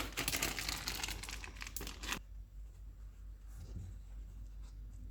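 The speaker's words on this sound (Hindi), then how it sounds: "बटर पेपर भी निकाल देंगे।" Butter paper is peeled and crinkled off a baked cake, with loud close rustling and tearing at the start that stops abruptly, followed by quiet handling noise.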